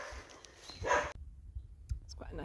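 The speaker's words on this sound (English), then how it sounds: "Bad dog." A chained-up dog barks a few faint, short barks at a distance along a countryside walking trail, mixed with outdoor noise and handling sounds.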